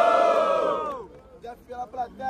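A rap battle audience lets out a loud, sustained collective roar and shout for Jeff. The cheer swells and then fades after about a second into scattered whoops and voices.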